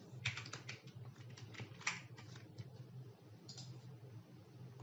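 A command is typed into a Linux terminal on a computer keyboard as a quick run of soft, close key clicks in uneven bursts, faint and alone.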